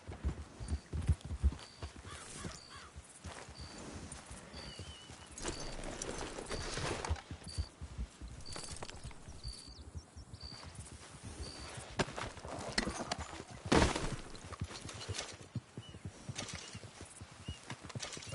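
Horse hooves clip-clopping in the Red Dead Redemption 2 video game, steady rhythmic footfalls at a walk, fairly quiet, with a whinny and faint birds in the background and no talking.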